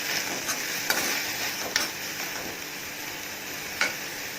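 Mint leaves sautéing in a pan, a soft continuous sizzle with occasional light clicks of a spatula stirring, near and without talk.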